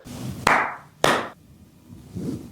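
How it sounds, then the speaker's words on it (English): Two sharp, close hand claps come about half a second apart at the end of a night routine, each fading quickly into a quiet room with faint low rustling between and after them. "just ends it off with a clap"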